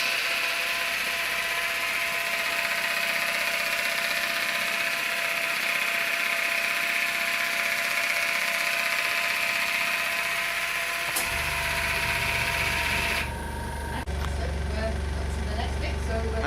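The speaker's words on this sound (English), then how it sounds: "the air compressor's decided you've used a lot of air" An air compressor kicks on partway through, adding a loud low rumble that continues steadily over a constant background hum.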